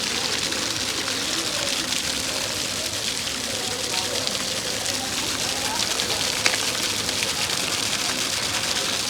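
Rain falls in the desert as a steady, dense hiss of drops striking the ground, fairly close and unbroken throughout, with faint voices underneath.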